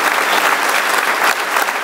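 A congregation claps during a church service, a dense, even burst of applause that stays loud and close throughout.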